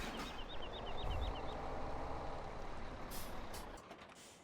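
A truck's air brakes hiss and reversing beeps chirp in a Farming Simulator 17 farmyard. A steady engine rumble runs throughout, with a quick series of high beeps early on and a sharp release of air near the end.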